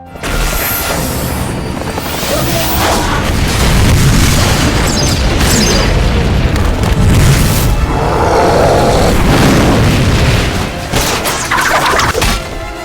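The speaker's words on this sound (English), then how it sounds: "Matt appeared, firing a rocket that destroyed the helicopter." A loud, sustained roar of booming blasts and rumbling, dense and continuous with thuds and bursts throughout, as a rocket explodes and destroys a helicopter amid heavy action in a Resident Evil film.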